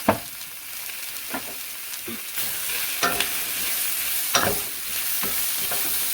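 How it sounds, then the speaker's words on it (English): Shrimp with onions, salt and black pepper stirred in a sizzling frying pan, a constant hiss punctuated by periodic spoon scrapes and knocks against the pan. "we want to mix this with the onions to give it that nice, beautiful flavor of the onions"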